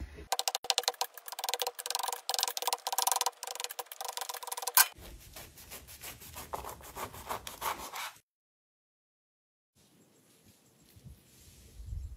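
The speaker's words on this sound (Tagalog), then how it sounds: "i-chop-chop ko lang to ng maliit" Jackfruit chopped into small pieces on a board, rapid dense knife taps in quick bursts, then a looser scraping stretch, a pause of silence and faint handling, close and with no talking.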